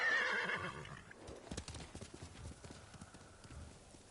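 A horse in the video game Ghost of Tsushima lets out a shrill whinny, then clip-clops away in a quick run of hoofbeats that gradually fade.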